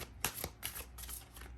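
A tarot card deck being shuffled close up, several quick riffling bursts in a row with brief gaps between them, quiet and alone.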